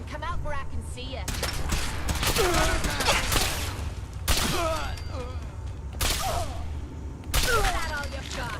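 Gunfire in the video game Fallout, with bursts of shots and impacts spread through the clip over a steady low background and scattered voices.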